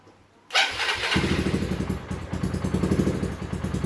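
A Yamaha Megapro motorcycle with a weak battery cranks on its electric starter after a short quiet moment, then catches and settles into a close, rhythmic idle.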